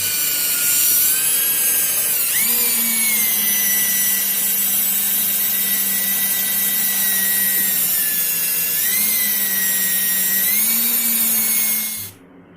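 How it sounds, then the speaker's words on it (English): A power drill runs loud and continuous for about twelve seconds, boring holes in the frame rail of a twin turbo Impala; its whining pitch dips and recovers as it bites the steel, then stops abruptly. "We're going to drill some holes in the frame."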